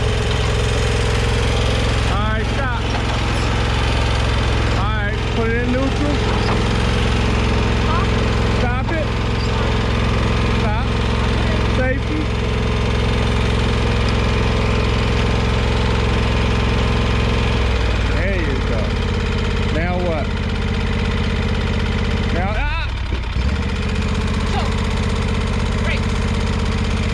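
A commercial walk-behind lawn mower engine idles steadily and loudly close by, a continuous low drone with occasional clicks and handling noises, while a person talks over it.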